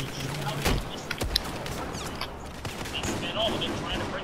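Gunfire in the Battlefield 4 map Operation Locker, with scattered shotgun blasts and other shots going off amid a busy, noisy in-game battle, a few sharp reports standing out over the din.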